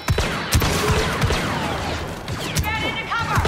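Rapid blaster gunfire from a Star Wars Battlefront II firefight, sharp repeated shots bursting over a busy battle bed, with voices talking among the shooting.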